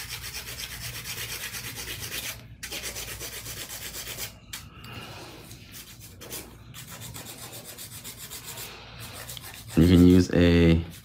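Steady, rhythmic scratchy rubbing of a worn hand file shaping a long C-curve nail set, close and fairly quiet, with brief pauses; a voice talks near the end.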